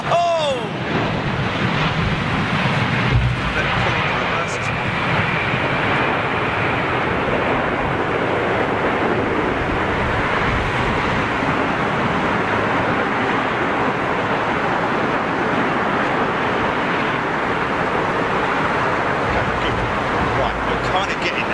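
An airliner lands on runway 27R at London Heathrow in strong wind, heard as a loud continuous roar of engine and gusting wind across the whole stretch while someone talks over it.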